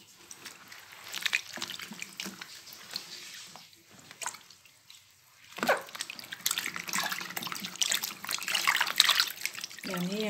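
Running tap water rinsing fresh strawberries in a kitchen sink, a soft continuous splash and trickle with brief drips, moderately close and steady, louder toward the end.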